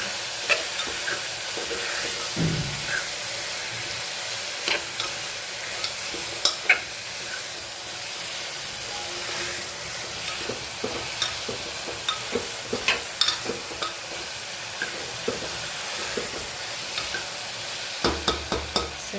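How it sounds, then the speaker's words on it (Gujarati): Food sizzles and fries in a pan over a full gas flame while a utensil stirs it in repeated scraping strokes, the frying loud and close throughout with no speech. "ગેસની ફ્લેમ ફૂલ જ રાખવાનું છે. મિક્સ કરી લઈએ."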